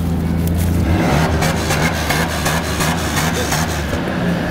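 Ford Ranger pickup truck on its stock exhaust being revved: a loud, close engine rumble that climbs, drops back briefly and builds again, with a deep steady exhaust tone throughout.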